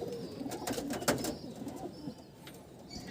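Pigeons cooing softly at close range in Howrah, low throaty murmuring coos mixed with faint wing flutters and scuffling, quiet and unhurried, no talk.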